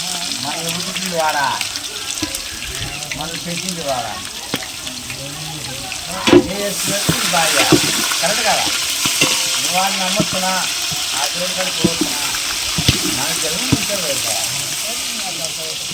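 Onions and ginger fry in a pan for gongura boti curry, a steady close sizzle and hiss that grows louder and brighter after a clattering stir midway, with voices speaking over it throughout.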